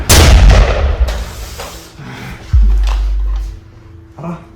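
A loud bomb explosion bursts at the start and rumbles away, followed by a second deep booming hit and a lingering low roar, with scattered smaller impacts.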